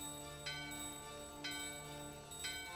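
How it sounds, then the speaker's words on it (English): A bell in Final Fantasy IX rings three times at even intervals of about a second, each bright chime ringing out over a sustained, sparkling musical tone. "The bell in your hand and the doorbell are ringing."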